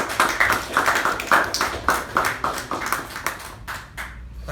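A small meeting audience at a Toastmasters club claps for two members, a few hands producing rhythmic, fairly close claps that grow sparser and trail off into scattered final claps.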